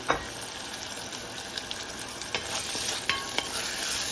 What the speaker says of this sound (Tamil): நல்லா ஒரு வதக்கிட்டு தக்காளி சேர்த்துக்கலாங்க